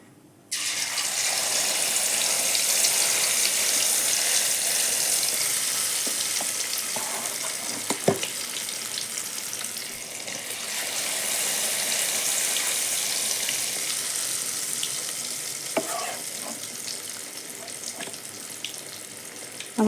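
Chicken 65 deep frying in hot oil at home, a steady loud sizzle running throughout with occasional clinks and stirring sounds, no talking.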